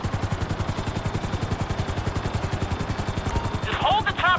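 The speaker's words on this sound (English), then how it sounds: "Just hold the chopper here." Helicopter rotor chop from a chopper hovering in Grand Theft Auto 5, a fast, steady thumping pulse close and loud throughout, with a brief clatter of game effects near the end.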